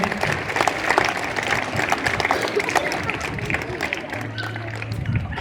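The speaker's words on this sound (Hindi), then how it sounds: "इनको भी हम लोग जो है अपने प्रांगण में तालियों से स्वागत करेंगे" An outdoor crowd at a political gathering welcomes a guest with steady, moderately loud applause, clapping continuing throughout with background voices and a low hum beneath it.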